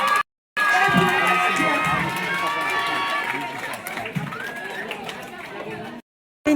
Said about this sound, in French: Donc un tonnerre d'applaudissements.